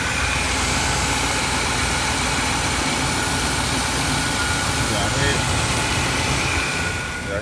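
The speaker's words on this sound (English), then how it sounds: "Sound like it got a little vacuum leak somewhere." A Lincoln Navigator engine idles steadily with a vacuum leak sucking air, a constant loud rumble with broadband hiss throughout, up close and unchanging.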